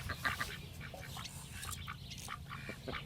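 Runner ducks quacking on a permaculture farm, a busy run of repeated nasal quacks at moderate distance over low outdoor rumble, no talk.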